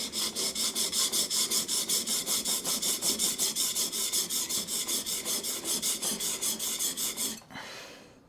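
A knife is sharpened freehand on a stone to remove the burr, with about three dozen fast, even rasping strokes in a close, steady rhythm that stop abruptly near the end, leaving faint room noise and no talk.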